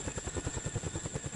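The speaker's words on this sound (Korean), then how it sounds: "드디어 고공 강화를 위한 헬기 시누크가 착륙하는데." A CH-47 Chinook twin-rotor military helicopter landing for airborne training gives off a steady, rapid rotor thump that sounds fairly faint and distant, with no voices.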